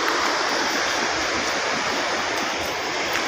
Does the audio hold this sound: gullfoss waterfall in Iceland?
yes